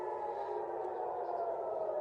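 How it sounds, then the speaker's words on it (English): Air raid sirens wail over Tel Aviv to warn of an inbound missile, a sustained mid-pitched tone that holds steady and sounds distant and fairly faint, with no talk over it. "the sirens are now wailing over Tel Aviv, indicating that another missile is inbound"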